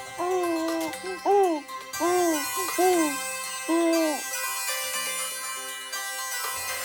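A melodic phone ringtone plays a sequence of sliding, hooting tones in a repeating pattern, followed by a brighter sustained jingle, loud and close.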